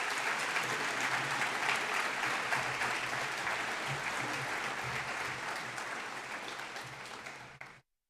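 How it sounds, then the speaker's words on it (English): A school audience claps steadily for 10th grade award recipients at a 2024 awards day ceremony, the dense applause holding strong before tapering off and stopping abruptly near the end. "Please give a round of applause for our 10th grade recipients."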